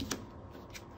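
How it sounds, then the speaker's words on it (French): Playing cards drawn from a deck during a game of Goblivion at a board game bar: a short, close papery swish and slide of three cards, quiet and brief over a low room hum. "Il nous fait piocher 3 cartes."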